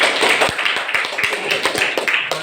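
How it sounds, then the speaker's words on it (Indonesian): A classroom of students claps for a classmate, a quick run of sharp, fairly rhythmic hand claps close by, with a few murmuring voices. "Tepuk tangan untuk Ronald"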